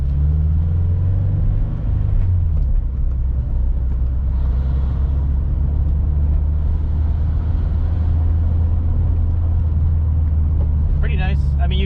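A car fitted with FTSPEED unequal length headers cruises at low RPM, its engine giving off a deep, continuous rumble that stays steady and close throughout.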